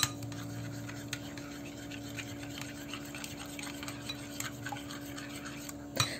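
A spoon stirs a mixture with sugar and a pinch of salt in a bowl, producing soft, continuous rhythmic scraping over a faint steady hum, with a sharper knock near the end.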